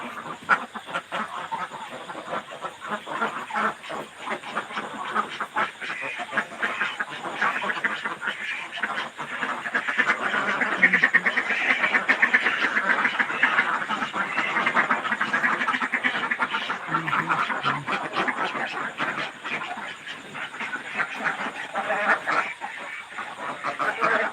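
Ducks kept at a farm where rats have been troubling the flock, quacking and calling steadily in a dense, overlapping chorus that holds close and fairly loud throughout, with no voices.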